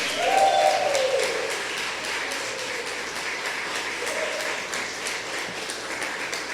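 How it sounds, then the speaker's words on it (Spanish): A church congregation applauds during a worship service, a sustained wash of clapping at moderate volume over a faint tonal musical background. "Denle un aplauso al Señor."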